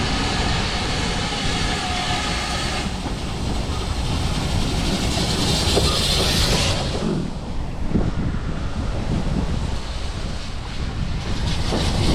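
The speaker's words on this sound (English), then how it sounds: "Just arriving into Bishop's Lydiard now is 7812 Earl State Manor" Locomotive 7812 Erlestoke Manor rolls into Bishop's Lydeard station on the West Somerset Railway, a loud, steady rumble of the engine and carriages close by that changes partway through as it passes, with no voices.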